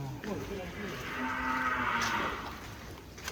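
A cow lets out a long, low moo at moderate distance on a Bali cattle farm, over faint background noise and other livestock murmurs.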